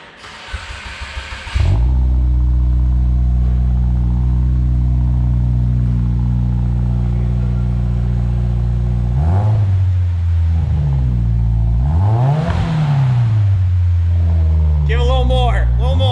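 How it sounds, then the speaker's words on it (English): A 2022 Subaru WRX engine with a custom GrimmSpeed exhaust cranks briefly, catches and settles into a deep, throaty idle, then revs up sharply a few times before dropping back, with brief voices near the end. "Corey, fire this car up."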